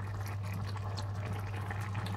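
Jaggery rice simmering in water in a pot over low heat, giving a steady, soft bubbling and watery hiss that runs unbroken without any talk.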